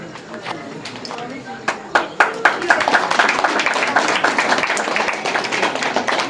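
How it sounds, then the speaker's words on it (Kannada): An audience at a temple visit by a member of parliament bursts into applause, scattered claps at first building into dense, steady clapping that continues throughout. "ಜೋರಾಗಿ ಚಪ್ಪಾಳೆ ಬರಲಿ"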